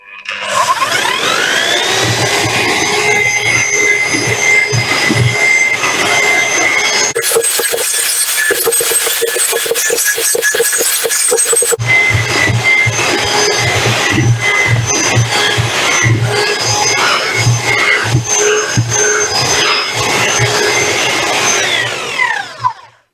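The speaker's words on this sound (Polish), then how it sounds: "I jedziemy moim nowym mieszadłem." An electric paddle mixer churns branch wood chips for briquettes with a loud, continuous motor drone. Its tone shifts for a few seconds midway, then settles back to a steady whir before it cuts off.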